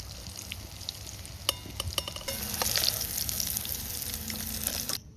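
Whole cumin, dried chillies and whole garam masala hit hot oil and crackle in a close, bright sizzle at an outdoor forest picnic cookout, with a few sharp pops early on and the frying swelling louder before cutting off abruptly.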